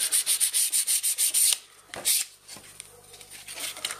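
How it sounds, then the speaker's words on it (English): A hand sander roughens the whole outside edge of a piece to give it tooth for a marine-grade sealer. A quick, steady run of close, rhythmic scrubbing strokes lasts about a second and a half, followed by a few separate strokes and quieter handling. "roughen up this whole outside edge, and the plan is to give it a tooth so that the sealer I'm going to use on it will stick"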